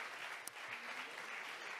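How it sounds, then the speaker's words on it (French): Applause from a summit audience heard faint and distant, a soft continuous patter of many hands with one sharper clap standing out briefly. "Applaudissons-la."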